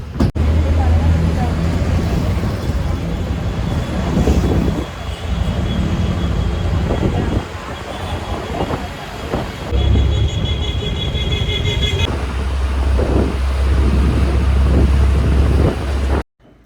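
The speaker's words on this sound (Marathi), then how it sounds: "म्हणून मी बसने चालली आता" Steady loud rumble of a moving bus with wind buffeting the microphone, engine drone shifting as it travels, a continuous ride on a road between Thiruvananthapuram and Alappuzha.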